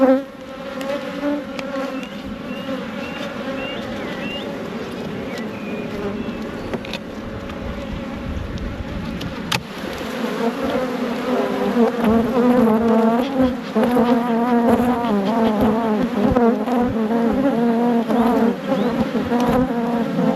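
Dense, steady droning buzz of many honeybees swarming around an open beehive during spring hive work, loud and close, growing busier partway through with no speech over it.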